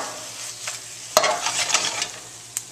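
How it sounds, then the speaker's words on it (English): Stewed squash slices tossed in a hot pan, with steady sizzling broken by a sharp clatter and a few scraping stirs, close and clear with no talking. "give it another little toss"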